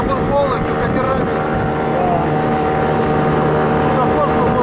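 Small motorboat on a river droning steadily with a constant engine hum, wind buffeting the microphone over the whole stretch.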